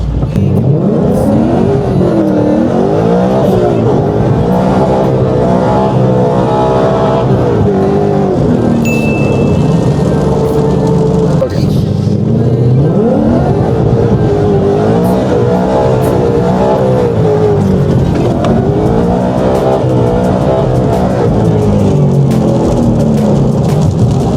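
A Ford Mustang drifts on a wet, rainy road. Its engine revs and surges continuously at close range, with repeated rises and falls in pitch and faint tire hiss, and no voices.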